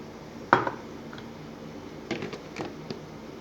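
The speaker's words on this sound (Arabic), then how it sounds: "ونخفق" A whisk clinks against a bowl while beating salted crepe batter, with one sharp knock followed by a few lighter, scattered taps and scrapes, close and fairly quiet.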